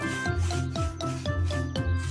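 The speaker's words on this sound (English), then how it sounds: "Scrub, scrub, scrub. Scrub, scrub, scrub." Rhythmic cartoon scrubbing of a toy car, a brisk rubbing stroke repeating about every quarter second over a music bed, loud and close with no talk.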